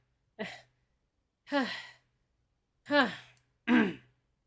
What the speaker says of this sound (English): June stands there, breathing heavily for a few seconds.